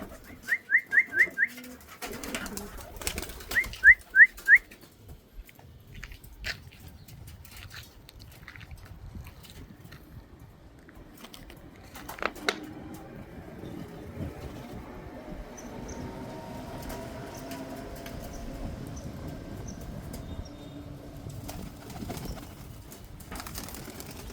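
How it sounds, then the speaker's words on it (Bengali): Pigeons flutter and coo nearby as they come to drink water, with bursts of wingbeats early on, then a low steady rumble of background noise underneath. "তো আমার এখন সব কবুতরগুলো আসতেছে পানি খাওয়ার জন্য"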